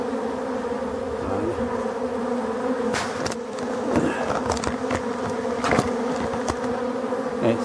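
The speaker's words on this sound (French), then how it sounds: "Donc ça fait toujours plaisir de voir ces abeilles." Honey bees buzz steadily around beehives at an apiary in Brittany in early October during the ivy flow, a dense continuous drone with occasional louder passes of individual bees close by, no talking.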